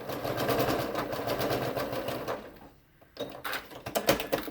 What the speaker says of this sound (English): I'm going to stitch up to that dot that I had